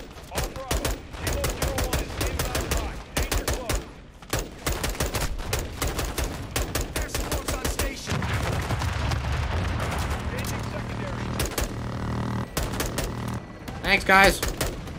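Air support gunfire in a combat video game, rapid bursts of shots and heavy booms rolling through the whole stretch, loud and dense, with voices talking over it.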